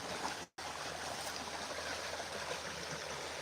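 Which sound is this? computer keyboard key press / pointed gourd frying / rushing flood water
rushing flood water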